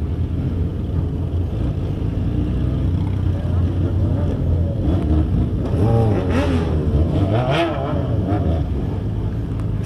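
A motorcycle engine drones steadily and then revs up in rising surges as the rider lifts into a wheelie at a crowded street event, with voices and crowd noise around it.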